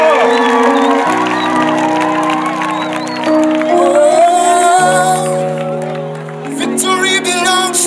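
Church congregation applauding and cheering to welcome visiting pastors at a gathering, loud sustained clapping and shouts with music playing throughout.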